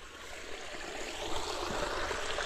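Water drains out of a fish tank in a continuous, fairly quiet rushing trickle that swells slightly toward the end, heard alone without speech.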